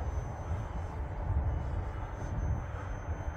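A Flyzone Tidewater RC plane flies over lightly snowed grass, its motor giving a steady, moderately loud drone that swells slightly as it passes, with no talking.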